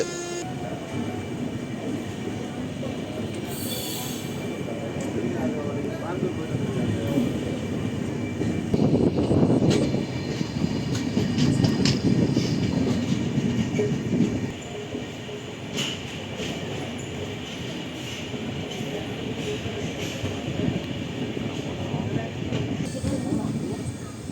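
The Cuddalore–Mysore Express passenger train rumbles steadily along the rails, its rolling clatter swelling for a stretch in the middle before settling back into a constant hum.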